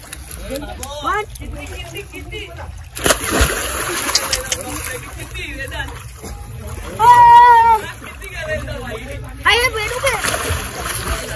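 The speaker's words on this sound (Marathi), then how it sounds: "परत एकदा डुबकी मार, परत एकदा आल्यापासून पाण्यात आहे" Water splashes and sloshes repeatedly amid loud outdoor chatter at a farm, with a louder burst near the middle as someone dives in.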